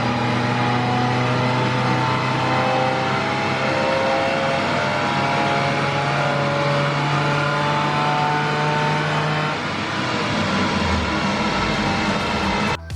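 Volkswagen Golf MK1 engine revving hard on a dynamometer, a loud, sustained rising drone that climbs steadily in pitch before backing off near the end of the run.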